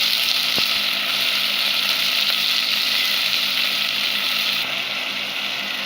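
Turkey berries sizzle and fry in a pan as the base for a prawn curry, a loud continuous crackle with no talking.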